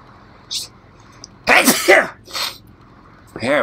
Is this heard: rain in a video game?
no